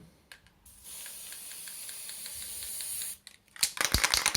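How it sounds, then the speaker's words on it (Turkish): Steady hiss of spray paint from an aerosol can, sprayed from a distance onto a rusted white washing machine, lasting about two seconds alone, followed by rattling and clicking of the can. "Alt kısma da aynı şekilde uzaktan boyamı sıkıyorum."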